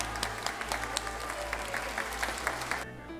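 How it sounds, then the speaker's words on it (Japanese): Applause from an audience at a Toshiba Brave Lupus Tokyo championship report event in the entrance hall of a Chofu cultural hall, steady dense clapping throughout that cuts off abruptly near the end. "大きな拍手をお願いいたします。"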